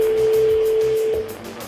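A telephone line rings out during a live radio call, with a steady electronic tone held for over a second and then cut off, leaving a quiet line.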